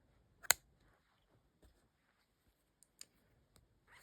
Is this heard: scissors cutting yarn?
yes